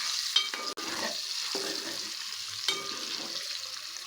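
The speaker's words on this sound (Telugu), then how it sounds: "ఎగ్స్ వేసుకుందాం ఒకసారి కలుపుకుందామండి" Boiled eggs are stirred through a sizzling egg masala curry in a frying pan, with a utensil scraping and clinking against the pan over a steady frying hiss, up close and with no talking.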